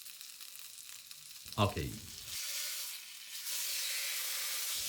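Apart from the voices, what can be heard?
searing pork fat in a pan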